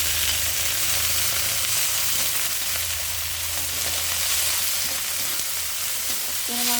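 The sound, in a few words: carrot frying in olive oil in pan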